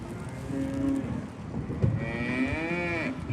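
Cattle moo at an Angus and Simmental open cattle show, with several low, drawn-out bellows overlapping one another over a steady crowd-hall hum.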